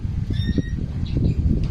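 A bird calls in the provinces with short squawking notes that sit faintly over steady low rumble and outdoor noise, brief and somewhat distant.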